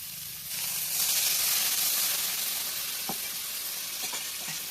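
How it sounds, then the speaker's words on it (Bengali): Water is poured into a hot pan of spice-fried potatoes for an egg curry, setting off a loud, close, rushing sizzle and hiss that fades slightly but keeps bubbling, with a few faint clinks. "এখন জল দিয়ে দেবো।"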